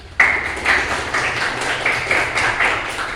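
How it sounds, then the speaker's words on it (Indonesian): A room full of people bursts into applause for a group of presenters: sudden clapping that starts sharply and carries on in uneven, pulsing waves for a few seconds. "Beri tepuk tangan untuk kelompok pertama"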